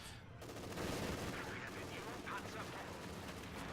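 Anti-tank gun fire in Company of Heroes 2, aimed at a Panzer IV, comes as dense, continuous battle noise with overlapping shots and explosions, loud and steady from start to finish.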